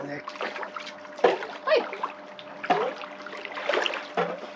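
Water splashes and sloshes in uneven bursts as someone wades into cold sea water, close and moderately loud, with voices talking faintly underneath.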